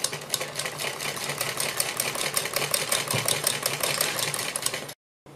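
A sewing machine runs steadily, stitching a fabric strip onto a net neckline design, its rapid needle clatter close and even for about five seconds before stopping abruptly.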